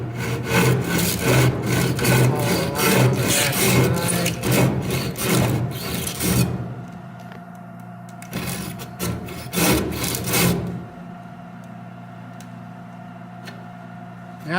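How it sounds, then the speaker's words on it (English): A hand saw cuts through wood for a sawhorse with steady, loud back-and-forth rasping strokes for about six seconds, then a few quieter strokes before the sawing stops and a faint hum remains. "work the saw back through the groove"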